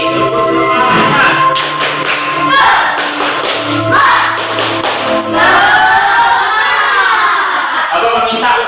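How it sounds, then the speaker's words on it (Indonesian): A group of students performs spirit clapping in a classroom, voices chanting together with bursts of claps, lively and loud, and a leader's voice calls out between the rounds. "Sekali lagi, tepuk semangat."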